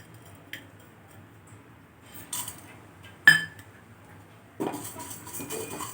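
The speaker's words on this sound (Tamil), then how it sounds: "ஒரு 3 நிமிஷம் இப்படி இந்த மாவை வறுத்துக்குங்க" Flour being stirred and roasted in a pan on a stove, heard as sparse scraping and clinking of a utensil against the pan, a few sharper knocks and a longer scraping stretch near the end, otherwise quiet.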